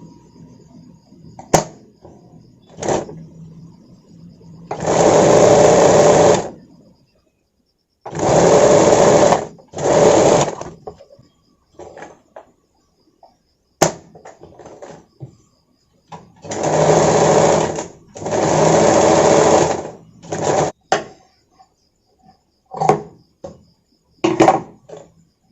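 A sewing machine stitches a blouse in several bursts of rapid, loud whirring, separated by pauses with faint handling clicks and a little quiet talk.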